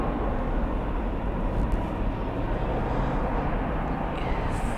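A heavy airliner at Dallas/Fort Worth International Airport at night, its jet engines giving off a steady broadband roar that holds at an even, fairly loud level throughout, with no talk.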